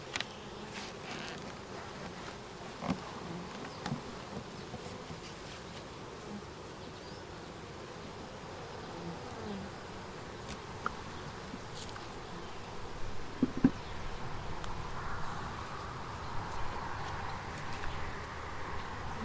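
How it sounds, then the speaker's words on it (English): Honey bees in an opened hive near a feeder, a steady dense buzzing hum that swells slightly toward the end, with faint rustles and brief ticks and no voices. "There's just a lot of bees in this hive."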